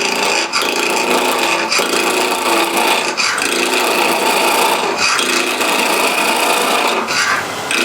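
A half-inch skew chisel cuts a wooden knob on a lathe, giving a steady, close scraping rasp that carries on without a break, pulsing slightly once or twice a second, with no voices.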